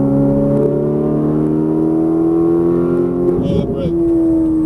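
A Ferrari 458 Italia accelerating on a race track, its engine note rising steadily in a loud, close whine that climbs in pitch, with a brief burst of noise near the end as the revs change.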